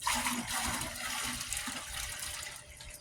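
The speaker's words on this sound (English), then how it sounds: "I'm gonna add more water to this." Water pours steadily into a 5-gallon bucket of comfrey tea, a continuous close splashing rush that eases slightly toward the end.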